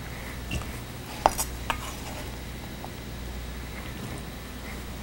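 Food for a Mediterranean meal is transferred into a bowl, with a few sharp clinks of cutlery against dishes and light scraping over a quiet background hum.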